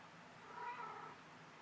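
A cat in the Minecraft video game lets out a single drawn-out meow, faint and fairly soft, rising and falling over about a second with no talking.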